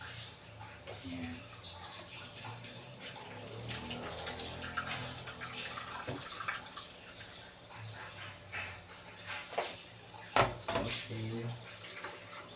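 Coconut milk poured and strained for biko, a Filipino sticky rice cake, in a home kitchen: a steady watery pour and trickle with occasional splashes and clinks, with a voice heard over it.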